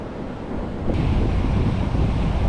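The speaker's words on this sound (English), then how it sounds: "Damn wind." Strong wind gusts across a saltwater beach, roaring and buffeting the microphone in a loud, continuous rumble that swells partway through, mixed with surf noise and no talking.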